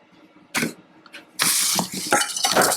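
A little whisk clinks and scrapes against a bowl as set cream for a lime crème brûlée dessert is worked, in sharp loud metallic bursts after a quiet start, close up with no talk.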